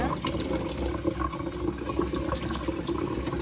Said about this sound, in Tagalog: Ito na, huhugasan natin yung bangos.